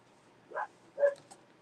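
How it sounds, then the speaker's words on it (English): A dog gives two short, faint barks somewhere off in the background of a quiet room, about half a second apart. "Hold on, my dog's barking."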